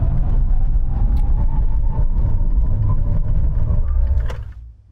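A Maserati Ghibli Trofeo brakes hard from 100 mph, heard as a loud, steady interior road and tyre roar that holds for several seconds and then fades quickly as the car slows to a stop.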